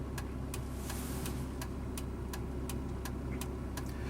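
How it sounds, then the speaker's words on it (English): A 2003 Mitsubishi Eclipse exhaust holds a steady low drone while driving around town, quiet and unobtrusive, with faint regular ticking above it. "Mitsubishi did a really nice job of tuning the exhaust on this car, so it isn't loud or obtrusive for normal around town driving"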